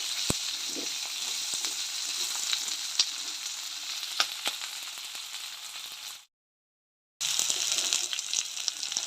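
Food sizzling steadily in a hot pan for Chintamani chicken while a utensil stirs it, bright continuous frying hiss with scattered scrapes, cutting out to silence for about a second before resuming.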